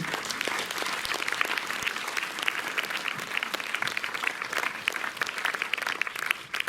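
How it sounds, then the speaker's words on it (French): An audience applauds in a Montreuil cinema as a guest enters during a film screening and talk, with dense, lively clapping of moderate loudness holding steady from start to finish. "Un tonnerre d'applaudissements pour Hugues de Gaumont qui vient d'entrer."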